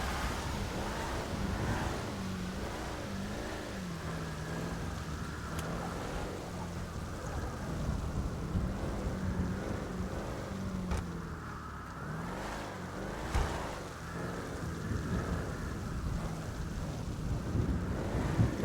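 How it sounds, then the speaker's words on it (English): Wind blowing in a snowy setting of a roleplay video game, a steady broad rushing roar that swells and eases throughout, moderately loud, with no talk. "Why is it getting windier?"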